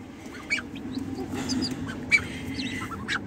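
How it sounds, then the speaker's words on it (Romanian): Two young chickens hatched under a duck peep in a farmyard, with short high cheeps scattered over a steady low background of fowl noise and no talk. "E un pui de găină. Și aici mai e un pui de găină. Doi pui de găină."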